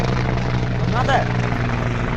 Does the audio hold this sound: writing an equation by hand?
no